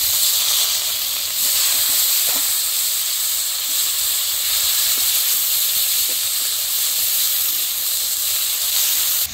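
Onion and garlic paste hits hot oil with cumin in a pan, giving a loud, continuous steamy sizzle and hiss that stays steady throughout with a few faint clicks.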